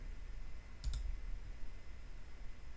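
A single faint mouse click while drawing in CAD software, brief and close, over a low steady background hum.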